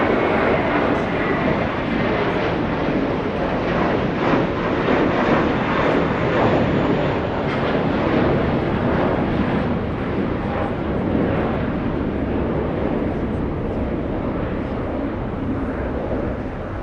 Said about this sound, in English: American 2714 and Airbus A321 flying to San Jose del Cabo.